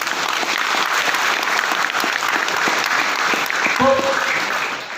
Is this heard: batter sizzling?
no